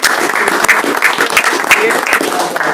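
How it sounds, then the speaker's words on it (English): Applause from the audience at a city commission meeting honoring a retiring custodian: steady, fairly close clapping throughout, with a few louder claps standing out. "Let's give a big round of applause to people for being"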